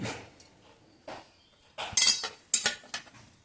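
Grated gooseberry and beetroot go onto a large plate, with a few close, soft clinks and scrapes of a utensil on the plate in short separate bursts.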